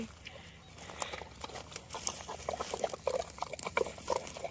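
A pig eats yogurt close by, with wet, messy slurping and smacking in irregular bursts and soft snuffles.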